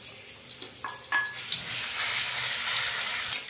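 Garlic dropped into hot oil in a kadai, a few clinks of a utensil at first, then a loud, steady hiss of frying that swells and holds close by.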